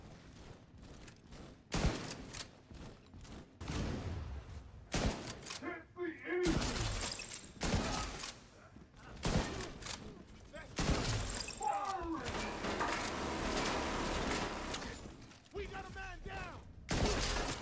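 Video game gunfire in the Dark Zone South of The Division, with repeated bursts and sharp shots breaking through a dense, noisy mix while a player talks over the action.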